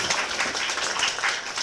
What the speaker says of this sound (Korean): 후보님 말씀을 다시 한번 큰 박수로